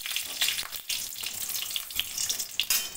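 Dried red chili frying in hot mustard oil in a pan, a steady close crackling sizzle with brief louder spits, no talking.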